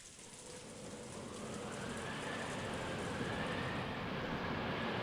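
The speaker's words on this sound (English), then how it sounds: "Oh, the storm's going." A steady rainstorm sound effect from the Umineko visual novel, a dense, continuous hiss of rain that swells slightly and holds, with no talk.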